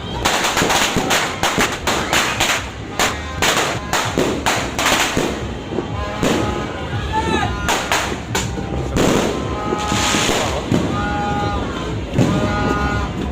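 New Year's midnight firecrackers pop and bang in rapid irregular bursts, some sharp and near, others thudding farther off, with voices occasionally audible among the blasts.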